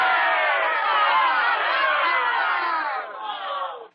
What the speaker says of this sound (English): Let me hear, for our good counselors, a thunderous cheer.